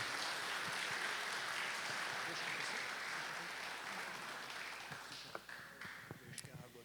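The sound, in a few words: audience applause for a speaker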